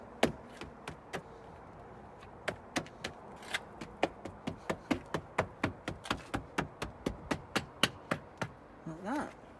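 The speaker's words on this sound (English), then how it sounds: "Very last thing is just to pop these door seals back on." Rubber door seals being pressed back onto a BMW E34 M5, heard as a rapid series of sharp taps and thumps in an uneven rhythm, close and fairly quiet, ending with a brief squeak.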